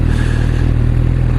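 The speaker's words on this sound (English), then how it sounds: "little inline 4 engine is as smooth as I like it." A 2016 Kawasaki Ninja ZX6R with an inline-four engine runs smoothly while being ridden, giving a loud, steady, close engine drone with no gear changes or pauses.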